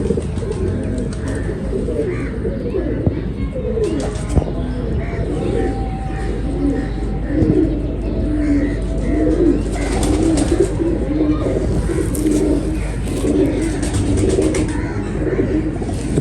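Breeding pigeons of the Teddy type cooing in a loft, a steady soft layered murmur of coos and faint chirps throughout, with someone talking over it.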